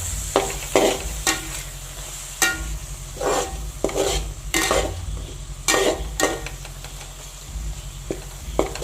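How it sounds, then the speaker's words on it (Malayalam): A spoon stirs mushroom masala curry in a pot over a low sizzle, with repeated scraping strokes at an uneven rhythm against a steady background hum. Close and fairly loud, with no talk. "ഇനിയിപ്പം നമുക്കിതെല്ലാം നന്നായിട്ടൊന്ന് ഇളക്കി കൊടുക്കാം."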